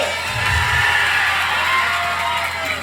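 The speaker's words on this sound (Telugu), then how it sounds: "చప్పట్లతో ఆయనకి స్వాగతం పలకండి" An outdoor audience at a tribal day celebration in Seethampeta cheers and applauds to welcome an MLA, a steady wash of crowd noise with shouts and whoops, no talking on top.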